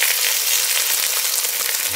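Free-range chicken pieces sizzling in a pan with golden onions for a chicken curry, a loud, even frying hiss that holds steady throughout with faint stirring scrapes underneath and no talk.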